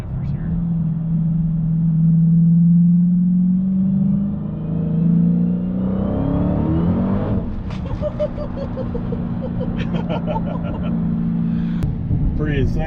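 A 2016 Dodge Challenger SRT Hellcat accelerating on paddle shifters, a loud low engine rumble that climbs in pitch, drops at a shift and builds again, heard from inside the car.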